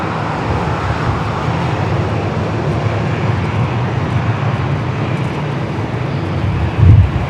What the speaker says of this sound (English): Coming in from Phoenix, the 737-800 should be followed by British Airways Flight 265.